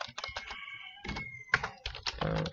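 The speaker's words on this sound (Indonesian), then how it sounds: "untuk mulai mengetik, kalian bisa langsung saja mengetik di sini" Fingers tap rapid bursts of keystrokes on a computer keyboard while typing into Microsoft Word, close and crisp, with short pauses between runs and no talking.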